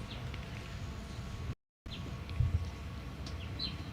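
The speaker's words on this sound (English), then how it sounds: "You can hear the birds chirping in the background as well." Faint, scattered bird chirps rise over a steady outdoor hum, with a brief dropout midway and a low thump near the middle of the second half.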